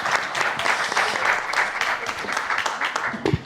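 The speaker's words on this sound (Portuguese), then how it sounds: "E palmas para os depoimentos de vocês." An audience applauds at a literature talk, a dense steady patter of many hands clapping for several seconds, moderately loud and sustained.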